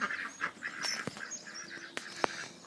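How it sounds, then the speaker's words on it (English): Ducks at a farmyard campsite on a morning, quacking in repeated short calls at moderate distance, with a few sharper clicks and knocks in between and no talk. "look at the ducks"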